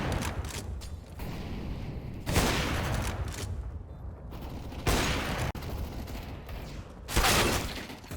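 Gunfire in CS:GO video game combat, repeated sharp bursts of shots several seconds apart over a steady background of mechanical and game noise, fairly quiet and with no voices.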